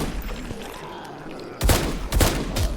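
Loud gunfire bursts rattle out in quick volleys during a fight with zombies in the survival game HumanitZ, following a quieter stretch of low rumbling game ambience.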